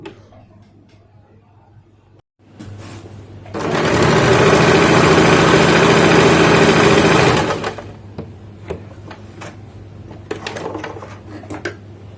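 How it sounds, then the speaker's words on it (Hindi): A sewing machine stitches a salwar seam in one loud, steady run of fast needle whirring lasting a few seconds, close by, with quiet handling noises before and after. "आप यहाँ इस तरह से चारों तरफ से सिलाई लगा दीजिए ऊपर तक"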